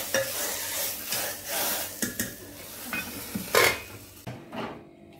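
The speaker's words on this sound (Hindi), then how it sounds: "अब इसमें हम डाल देंगे हींग और हम इसमें तड़का दे देंगे" Cumin and asafoetida sizzle in hot ghee for a tempering, a close hissing fry with metal spoon stirring and scraping against the pan, no talking.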